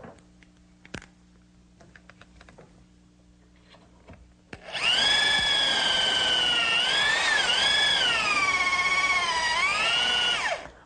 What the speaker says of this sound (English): this dowel jig is set up so I'll be able to drill both holes